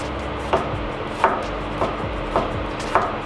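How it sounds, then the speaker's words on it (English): A sharp knife cuts cucumber into thin shreds on a board, five crisp, evenly spaced chops about two-thirds of a second apart, close and clear with no voices. "And then we're going to cut it back through this way."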